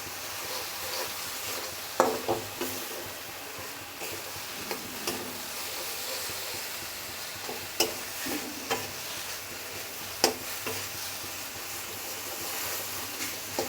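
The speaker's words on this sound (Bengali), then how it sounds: "এখন মশলাটাকে আমি ভালোভাবে কষিয়ে নেব" Spice masala with turmeric fries in a pan as a spoon stirs it, a continuous soft sizzle broken by a few sharp knocks of the spoon against the pan, close and with no talking.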